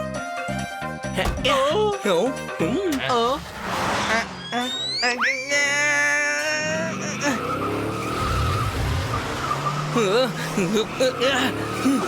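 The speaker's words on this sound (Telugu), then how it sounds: "నేను కారు నడపడం మొదలు పెడతాను." A cartoon car drives off with tire squeals, engine revs and comic skidding effects, mixed with animated character voices and music throughout.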